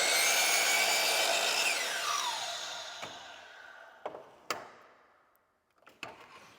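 Power saw cutting a 46.5-degree miter in wood ceiling trim: a loud whining cut that winds down over about three seconds, followed by a few sharp knocks and clacks as the piece is handled.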